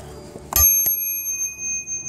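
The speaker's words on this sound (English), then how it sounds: "We got them bells." A bicycle bell in a bike store gives two bright, sharp rings in quick succession, the first ringing on with a shimmering tone before fading into quiet.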